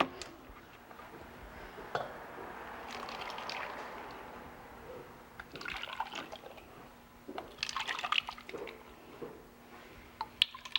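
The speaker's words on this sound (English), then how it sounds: "we're going to pour it into different bowls" Liquid soap poured into several bowls at a soap factory, heard as soft, wet pouring and squishing with scattered drips and small splashes over about ten seconds, with no talking.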